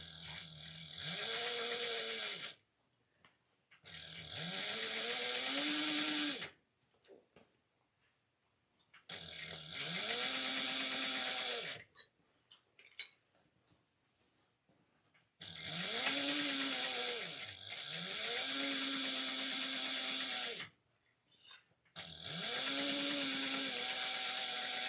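Sewing machine top stitching the seams of a commuter tote bag, running in several sustained bursts of steady motor whir with short pauses between them, close and fairly loud.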